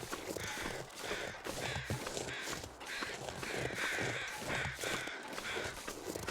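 Crows caw outdoors in cold weather during a game set around a lake and coastal highway, faint and distant under a busy, noisy background, with repeated calls spread across the stretch.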